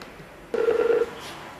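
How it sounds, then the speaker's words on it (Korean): A telephone rings once as a call starts. The short, clear electronic tone lasts about half a second and stands out over a quiet room background. "오늘은 주임 씨가 애슐리 어머니와 처음으로 전화 통화를 하려고 하는데요"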